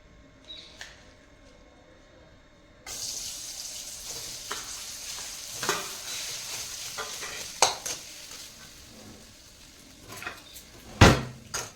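Ingredients roast in ghee in a pan, a soft sizzle with intermittent spoon scrapes and clatters against the pan, growing more active toward the end, after a quiet start.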